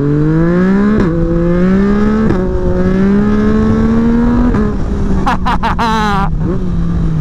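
A 2024 Yamaha MT-09 SP fitted with an Akrapovic exhaust pulls hard through the gears, its loud, close engine note climbing in pitch with brief dips at each shift, then several sharp high bursts from the exhaust near the end.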